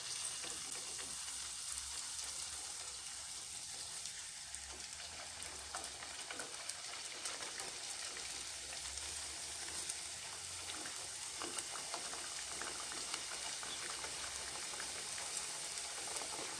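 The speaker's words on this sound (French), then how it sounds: "Et je commence la friture." Pastry dough sizzles steadily in hot oil, a soft continuous crackle and spatter with no talking.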